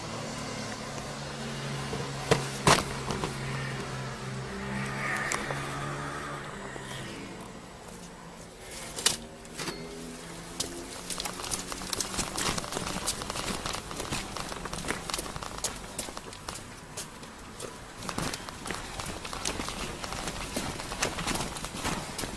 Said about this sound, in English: particularly as we drive across the cobbles on the driveway